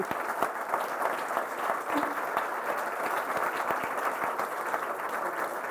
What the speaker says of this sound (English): A warm round of applause, please, from our audience.